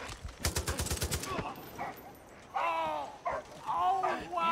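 Rapid bursts of gunfire from the Far Cry 5 video game, a fast automatic volley followed by shouting voices and a barking dog.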